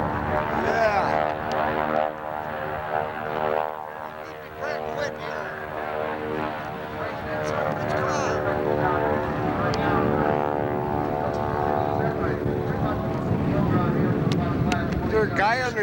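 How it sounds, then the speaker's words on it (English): An old biplane flies overhead at a 1991 ship decommissioning ceremony, its propeller engine a steady droning hum with harmonic whine that swells and persists, while people chat nearby. "Oh, the old biplane."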